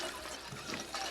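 Brief liquid gulping and splashing sounds as a character drinks water in Fallout 4, heard alone for about a second.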